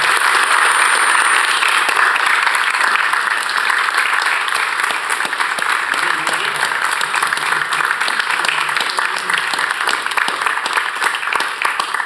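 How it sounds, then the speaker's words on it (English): A room full of people applauds steadily for a retiring commissioner at a Knoxville-Knox County planning meeting, an even wash of clapping sustained for about twelve seconds with no voices over it. "I encourage you to give Jeff a round of applause for his service."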